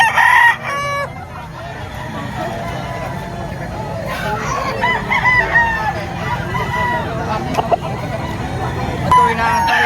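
A rooster crows and chickens cluck without pause at a busy poultry market in Padre Garcia, Batangas, loud and close, over a constant murmur of crowd chatter.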